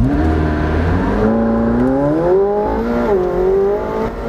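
A McLaren 720S Spider launches from 0 to 100 km/h, its engine note climbing loudly and continuously as the revs rise through the gears, close and dominant throughout.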